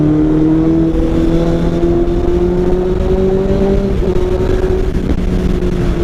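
A Honda CBR650F motorcycle engine hums steadily while riding on a leisurely weekend road trip, its tone rising slowly in pitch as it gently accelerates, loud and continuous with no speech.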